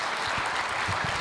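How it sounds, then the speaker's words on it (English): Conference audience applauding after a talk at a GNU Radio gathering, a steady dense wash of clapping from a full room, with no voices heard. "So another round of applause, please."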